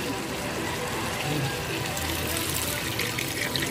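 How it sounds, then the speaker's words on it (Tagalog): Water runs steadily into a cooking pot with chicken and sautéed chayote for tinola, a continuous close trickling and filling sound that holds evenly for a few seconds with no talk over it. "Lagyan na natin ng tubig."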